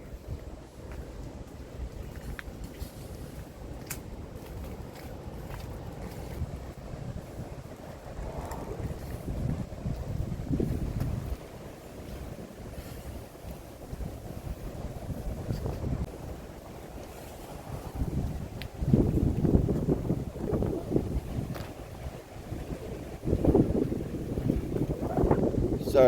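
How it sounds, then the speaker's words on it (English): Strong wind buffeting the microphone at a beach in Hollywood, Florida ahead of a tropical storm, a continuous roaring rumble with gusts swelling louder toward the end. "Sorry about the wind, guys."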